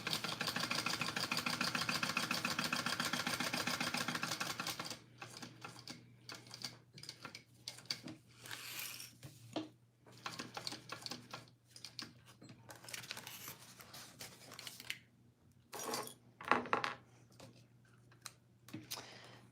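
Sewing machine stitching around a vinyl clutch, a loud steady whir for the first five seconds, then shorter stop-start bursts of stitching mixed with clicks and handling noise, with no speech.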